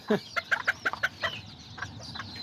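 A mother hen of a small chick-raising flock gives a quick run of sharp, close clucks, then quieter scattered calls as the burst trails off.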